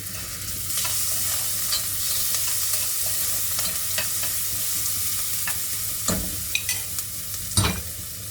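Ginger garlic paste fries in oil with a steady, close hiss, broken by scraping stirs and a few sharper clatters near the end.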